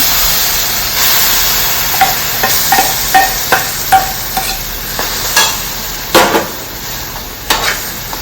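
Coconut barfi mixture with ghee being stirred in a pan, a spoon scraping and tapping against the metal in a steady series of sharp clicks over a soft background sizzle.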